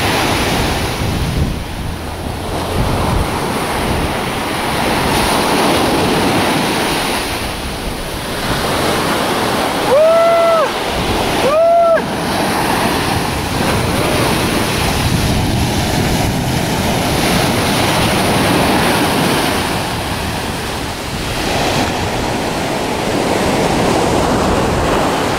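Sea waves break steadily on Jumeirah public beach in Dubai on a red-flag day with strong surf, a continuous broadband wash with wind noise on the microphone and a couple of brief tonal chirps midway.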